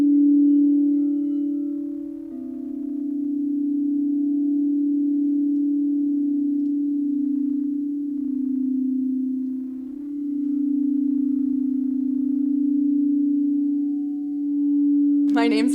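Healing singing bowl rung in a sound-healing yoga meditation practice, a single sustained, pure humming tone that swells and wavers gently for the whole span, close and steady, with a brief clatter at the very end.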